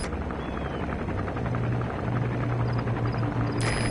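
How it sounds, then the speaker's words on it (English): An arms dealer's patrol helicopter in Metal Gear Solid 5 drones overhead with a steady rotor chop and low engine hum, continuous and moderately loud throughout, with a faint electronic chirp near the end. "Looks like the arms dealer's chopper is gonna patrol for the security forces."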